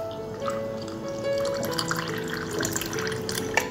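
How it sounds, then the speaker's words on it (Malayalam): Water is poured into a glass of raw mango squash with ice cubes, making a steady, soft splashing trickle with tonal ringing as the glass fills. "ഇനി ഇതിലേക്ക് വെള്ളം ചേർത്ത് കൊടുക്കുക."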